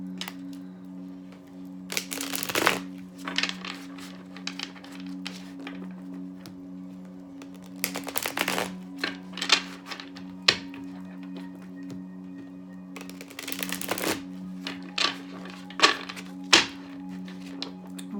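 Bursts of tarot card shuffling come in several rapid riffles, with softer taps and card handling between them over a steady low hum.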